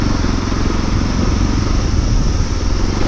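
A motorcycle crosses a bridge with a steady, loud engine drone that runs without a break, close by, and no one speaks.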